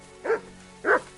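A dog in the video game Kingdom Come: Deliverance 2 gives two short, close barks about half a second apart.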